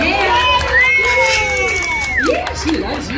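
Audience at a state fair parrot show cheering and shouting, a continuous close crowd din with children's voices and a high drawn-out call over it.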